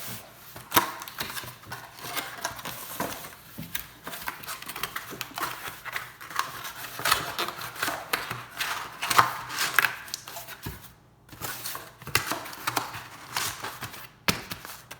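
The cardboard lid of a Max Pro 3200-count half-lid sports card box is folded up, giving close, continuous crinkling, creasing and tapping with a few sharper snaps.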